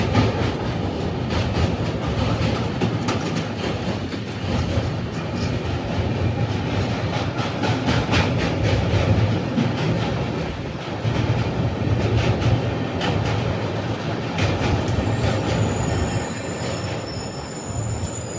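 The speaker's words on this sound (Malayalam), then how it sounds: "ഇതിലൂടെ ഒരു ട്രെയിൻ പോകുന്നത് കാണാം." A train rolls across a river bridge over a shallow monsoon-fed river, a loud, steady rumble of wheels and carriages with faint squealing throughout and no voices.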